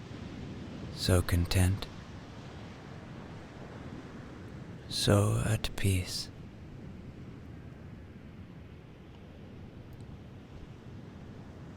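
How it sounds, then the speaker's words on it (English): Steady ocean surf by a lighthouse washes softly and continuously beneath a calm narrator's voice, which speaks in two short bursts before the waves carry on alone. "The sound of the ocean is his constant companion"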